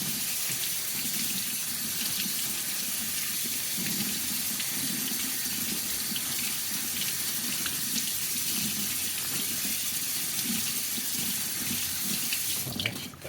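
Water tap running steadily into a sink while a cornhole bag is rinsed of soap and conditioner, a continuous splashing rush with no talking.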